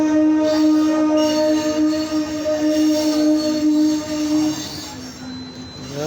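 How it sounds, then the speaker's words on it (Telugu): A train at Chandravuru station, bound for Tenali in Andhra Pradesh, rolls past close by. Loud, sustained metallic wheel squeal sounds over the rumble of the wagons and fades toward the end. "రేపటి నుంచి తెనాలి వెళ్ళే రైలు చూస్తున్నాం."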